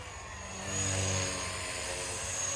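A Blade 230S Smart v2 RC helicopter in flight, a steady whining rotor and motor drone with a high buzzing tone, swelling slightly in loudness, fairly faint and continuous.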